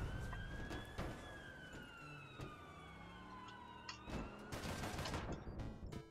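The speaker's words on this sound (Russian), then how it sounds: "давайте включим сирену, чтобы уж совсем все понимали, что мы приехали" A police car siren in the online game APB Reloaded wails with rising and falling tones over busy game audio, with sharp bursts like gunfire breaking in near the end.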